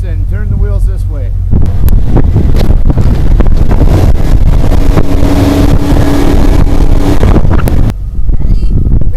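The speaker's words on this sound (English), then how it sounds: "Put it in reverse and turn the wheels this way." A 2002 Ford F150 4x4 revving hard in reverse while trying to get traction, a loud, sustained engine roar heavily buffeted by wind on the microphone, with voices talking under it.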